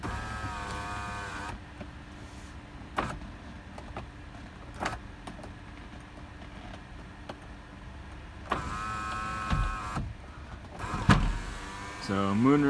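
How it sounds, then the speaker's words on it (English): Power moonroof motor on a 2008 Toyota Sequoia SR5 4x4 whirs steadily inside the cabin, with a few clicks and a rise in pitch near the end as the roof panel stops. "So moonroof operates as it should."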